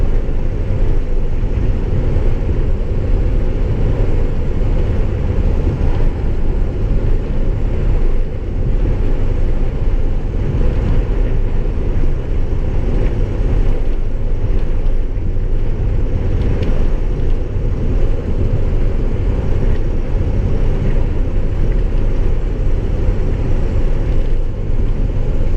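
International Durastar truck with a Cummins 6.7 engine cruising on Interstate 65, a steady loud low engine drone and road roar with wind noise, continuous throughout with no talking.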